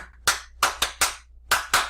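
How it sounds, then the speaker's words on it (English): A man claps his hands during a scripture talk, six sharp, close claps in an uneven rhythm, each one crisp and separate against a quiet background. "that's the reason I always clap my hand"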